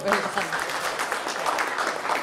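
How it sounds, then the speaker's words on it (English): Brief applause at a corporate leadership talk congratulating a colleague on an enhanced role; rapid clapping runs for about two seconds, overlapped by a person speaking throughout. "a round of applause and congratulations to Navin for his enhanced role"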